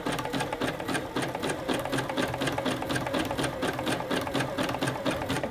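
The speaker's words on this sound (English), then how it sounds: "Keep whatever string you're using down the center of the presser foot, and then remember to rotate the fabric as it's stitching." A sewing machine stitches fabric for a round basket, a steady close rapid mechanical chatter of the needle running continuously without pause.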